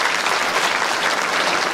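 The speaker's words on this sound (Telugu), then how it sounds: "ఒకసారి గట్టి చప్పట్లు కొడితే" Dense, loud applause from an audience fills a temple festival hall, steady clapping throughout with no voices on top.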